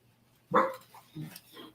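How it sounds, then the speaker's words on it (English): A pet dachshund named Remy gives one sharp, close bark followed by a couple of softer, shorter yips indoors, brief and fairly quiet overall. "That was my dachshund barking."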